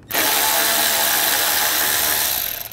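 A power tool with an 8 mm socket spins out a screw during radiator replacement on a 2013–2016 Dodge Dart 2.4L, a loud continuous high-pitched whir lasting under three seconds, close up and tapering at the end.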